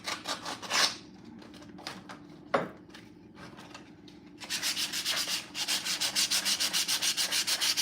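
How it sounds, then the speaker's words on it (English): Hand sanding of wooden footrests for a rocking horse in a workshop: a few separate scrubbing strokes at first, then a fast, regular back-and-forth rasp, close and fairly loud. "so now I'm just sanding them down"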